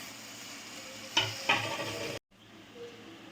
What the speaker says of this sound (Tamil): இப்போ நம்ம தக்காளியை சட்டியில் போட்டுருவோம்.